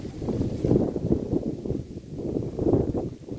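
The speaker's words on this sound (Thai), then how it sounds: "ลมแรงมากเลยค่ะ" Strong wind blowing outdoors in a Norwegian yard after grass cutting, gusting in rough, uneven surges of roaring microphone buffeting that rise and fall continuously.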